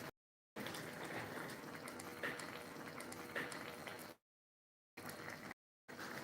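Soup boiling in a pot, a soft continuous bubbling close up, broken by several brief gaps of silence.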